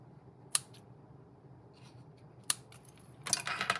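Scissors trimming linen thread for a handmade card, two crisp separate snips followed by a rustling burst of handling sounds, close and quiet with no talk.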